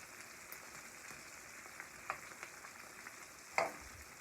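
Teriyaki chicken caramelizing in a pan gives a quiet, steady sizzle, with faint scrapes and one sharper clack near the end.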